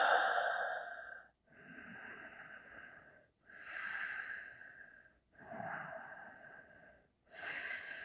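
Deep, slow breaths during a yoga eagle pose for sacroiliac joint release, five long audible inhales and exhales in an even rhythm, close and clear with a slight wheezy rasp, no talking.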